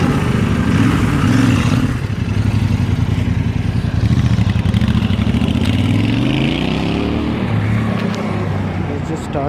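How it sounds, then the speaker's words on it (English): A Royal Enfield Interceptor 650 parallel-twin motorcycle engine running close by, a steady loud low thrum with a slight rise and fall in pitch midway, as if lightly blipped, continuous throughout. "Let's just start the bike."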